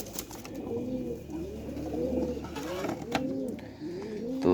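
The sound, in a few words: golden pigeon cooing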